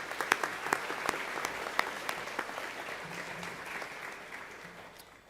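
Audience applause welcoming Dr. Bristow at a school Cum Laude awards ceremony, a steady crowd clapping with a few sharper nearby claps early on, gradually thinning and fading toward the end.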